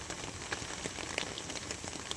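Rain falling steadily on the way to Kedarnath, a soft continuous patter with scattered brighter drops, moderately quiet and without voices.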